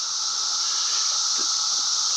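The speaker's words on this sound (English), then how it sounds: "That's trillions of cicadas all at one time." Countless cicadas at a wildlife refuge fill the air with a continuous high-pitched buzzing hiss, steady and dense, with no individual calls standing out.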